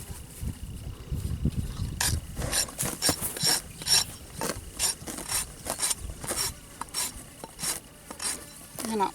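Radius Rasp 2 Pro rasp filing a horse's hoof, a close series of rough scraping strokes in an uneven rhythm, loud and alone with no talk.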